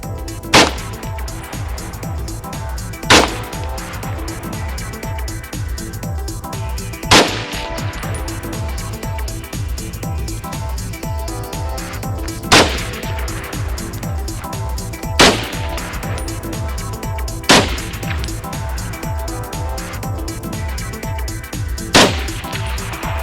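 M1 Garand rifle firing seven sharp, loud shots at irregular intervals of a few seconds, each crack standing out over continuous background noise.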